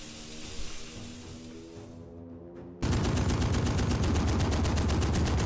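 Sustained automatic gunfire from enemy soldiers in a WWII beach invasion game erupts suddenly after a quieter stretch of rumbling ambience, loud and continuous with a fast, even rhythm of shots.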